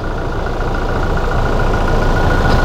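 Diesel engine of a Toyota Innova Reborn idling at a used car market, a close, loud, steady low rumble with no pauses.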